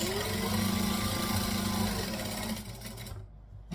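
A home sewing machine running steadily as it stitches forward and then back-stitches, a loud, close, continuous mechanical whir that drops off sharply near the end.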